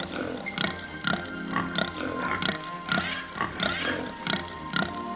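Pigs grunting in short, throaty bursts over steady tonal music, repeating every half second or so.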